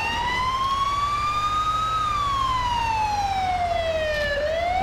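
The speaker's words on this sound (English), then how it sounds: "Because we've got the lights and sirens, we don't need to worry about one-way roads." Fire engine siren from a London Fire Brigade truck in the video game GTA 5, a loud wailing tone sweeping slowly up and down over a low engine rumble, continuous and close.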